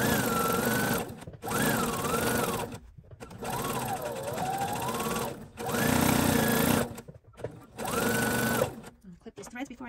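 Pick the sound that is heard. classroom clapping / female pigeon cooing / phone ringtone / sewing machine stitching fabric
sewing machine stitching fabric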